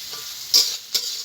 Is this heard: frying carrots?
yes